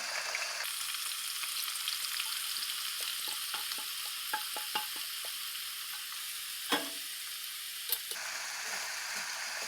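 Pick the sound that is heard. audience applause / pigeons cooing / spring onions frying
spring onions frying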